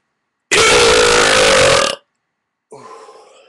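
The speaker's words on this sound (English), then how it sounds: "I'm going to set the bar high for you and just leave a burp for my submission." A single loud, long burp lasting about a second and a half, followed after a short pause by a fainter, rougher second belch trailing off.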